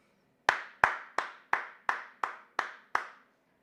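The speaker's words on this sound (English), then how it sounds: "Let's get a round of applause." Eight sharp claps in a slow, steady rhythm, each a crisp, close hand strike fading quickly, with no voices.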